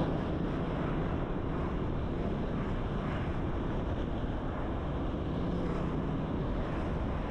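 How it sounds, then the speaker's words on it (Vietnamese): Strong wind buffets the microphone while riding a motorbike on the road from Vung Tau toward Long An, a steady loud roar with no let-up and no voices. "gió rất là to nha"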